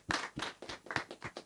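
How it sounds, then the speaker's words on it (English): Quiet, close clapping at an annual general meeting: a short run of about seven distinct hand claps in a steady rhythm, few hands, faint and sparse rather than a full crowd. "A round of applause for her"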